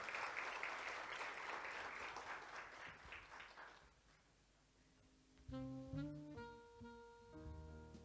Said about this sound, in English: Let's please put our hands together and give her a round of applause.